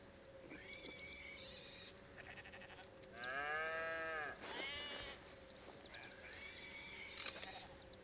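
An ox lows on a ranch in Red Dead Redemption 2, giving a deep, drawn-out moo in the middle with fainter bleating animal calls before and after, all against a quiet outdoor background.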